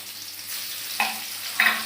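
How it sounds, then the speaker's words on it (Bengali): Garlic, nigella seeds and a little ginger fry in hot oil, giving a steady soft sizzle with two brighter crackling bursts as ingredients hit the pan. "পেঁয়াজ না, রসুন, কালো জিরা আর একটুখানি আদা দিচ্ছি।"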